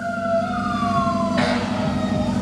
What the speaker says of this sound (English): Oh, fire truck!